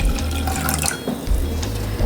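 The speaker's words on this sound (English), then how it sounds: "To make your oatmeal, you want to pour in some water into an empty pot." Water pouring from a tap into an empty cooking pot, a steady close splashing stream with bright gurgling that fills the short span, heard alone.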